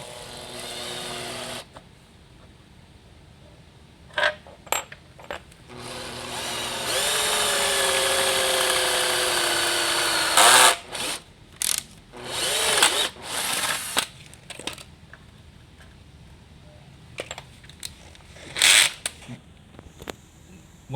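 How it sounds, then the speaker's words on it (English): A power drill with a 4.5 mm bit whines in several bursts while drilling a metal bracket, one long sustained run in the middle, with short clicks and handling noises between. "And we can go ahead and drill now."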